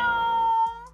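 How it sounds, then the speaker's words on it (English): An angry cat in the Roblox game Brookhaven lets out one sustained, strained meow that holds steady, then breaks off and fades at the end, loud and close with no talking over it. "Wow, it's an angry cat."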